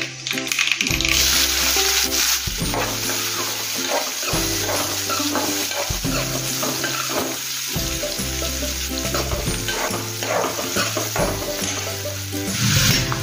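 Onions going into hot oil with popped mustard seeds for a bitter gourd dal, a steady loud sizzle and frying crackle running throughout, with rhythmic stirring scrapes and clinks close by.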